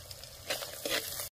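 Onion, green chilli, ginger and turmeric frying in hot oil in a pot, a soft steady sizzle with a couple of brief louder bursts as ingredients hit the oil, close and fairly quiet.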